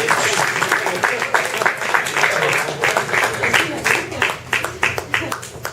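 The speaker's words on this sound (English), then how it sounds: "Big round of applause, everybody, as Sylvia comes to the stage." An audience at a BC writers' event applauds as a reader comes to the stage, a dense burst of clapping that thins toward distinct, scattered claps near the end.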